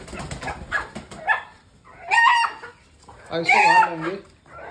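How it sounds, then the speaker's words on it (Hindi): A desi rooster in a Jammu village squawks and clucks loudly in two strong bursts as it is grabbed by hand, while someone talks at the start. "ये देखो कैसे भैया मशक्कत कर रहे हैं, पकड़ लिया मुर्गे को"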